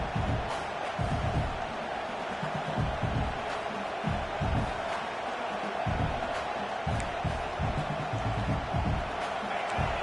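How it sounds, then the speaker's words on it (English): A large video game football stadium crowd roars continuously with cheering and shouting, a dense wall of noise with bursts of louder yells throughout. "this crowd is fired up. Listen to this noise here."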